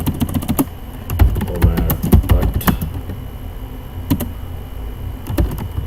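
Code being typed on a computer keyboard: a close, brisk run of keystroke clicks in irregular bursts, dense at first and then sparser with short pauses, with no voice over them.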